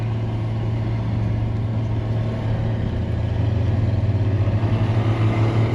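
Old Gleaner G combine, a barn find, with its engine running as it drives along: a loud, steady rumbling drone that holds constant throughout, close by, with no talk over it.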